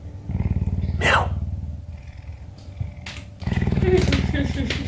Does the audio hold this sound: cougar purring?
yes